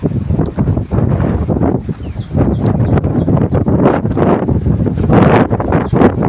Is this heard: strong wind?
yes